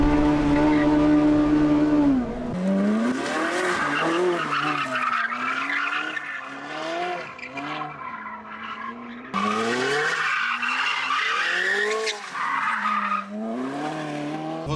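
A Ferrari slides sideways on a track, its tires squealing in long, wavering howls over the engine note, fading briefly then surging again as the skid continues.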